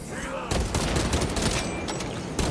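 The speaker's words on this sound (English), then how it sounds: "Throwing frag grenade" A frag grenade explodes in the Warhammer 40k: Space Marine 2 video game, a sudden loud blast followed by a rough crackling burst like heavy gunfire that lasts about two seconds.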